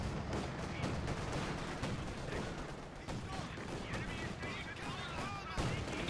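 Battle noise from a Company of Heroes 2 match: a Flak Panzer and an Osprey pound Soviet Guardsmen, with dense, continuous bursts of rapid gunfire and explosions under a commentator's voice.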